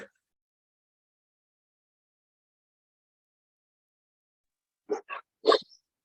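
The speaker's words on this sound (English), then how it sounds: "Can you hear the dogs in my house?" After a long stretch of near silence, a dog gives a quick burst of three short barks, somewhat muffled as if from another room.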